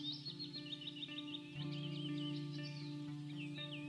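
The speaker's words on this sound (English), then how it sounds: "I think you could probably hear the bird sample that I put in there more than my actual guitar" Sampled birdsong chirps mixed into a quiet guitar recording, a string of high twittering calls running over steady sustained guitar tones and a low drone, the birds clearer than the guitar.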